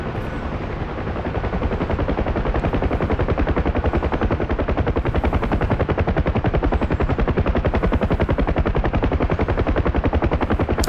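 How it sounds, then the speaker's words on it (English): Sustained rapid machine-gun fire aimed at the player's aircraft in the DCS flight simulator, a loud dense rattle mixed with the steady chop and roar of a helicopter, continuous for the whole stretch with no talking. "People shooting at us."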